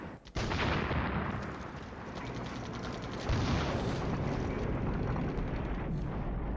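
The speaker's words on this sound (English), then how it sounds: "I'll accept their artillery landing on one of my air defense platoons." Artillery shells land in a NATO Decisions strategy game, striking an air defense platoon: a loud, continuous roar of blasts and rumbling impacts begins with a sharp onset and swells again partway through, with no voices.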